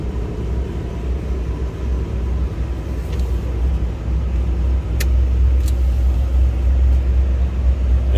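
A 1962 Cadillac Series 62 Convertible engine idles smoothly with a deep, steady low rumble close by, swelling slightly louder partway through, with a couple of faint clicks.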